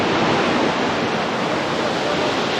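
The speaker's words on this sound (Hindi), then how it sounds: "बट उसका जो फ्लो है बहुत अच्छा है।" Waterfall about 20-30 feet high flowing in a forest at Mainpat, a dense, steady rushing roar of falling water, loud and continuous with no voices.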